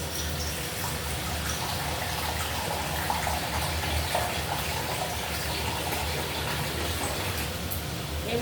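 Water poured into a pressure cooker holding a spicy prawn curry with mukhi kochu, a soft continuous splashing and gushing throughout, fairly faint and steady with no talking.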